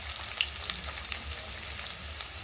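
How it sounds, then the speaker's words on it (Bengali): Vegetables frying in a pan give off a low, steady sizzle that runs the whole time, with a few faint clicks and scrapes and no talking. "চলো সবজিটা একটু ভালো করে ভাজা হয়ে নিই।"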